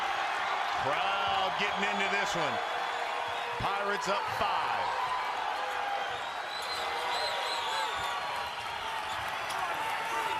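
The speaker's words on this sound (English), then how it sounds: "Crowd getting into this one." An NCAA men's college basketball arena crowd at a Texas Tech versus Seton Hall game, a rising roar of cheering mixed with squeaking sneakers and ball bounces, under a play-by-play commentator talking continuously.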